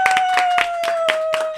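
A small group in a podcast studio claps to welcome a guest: a handful of sharp, uneven claps over a steady sustained tone, close and fairly loud.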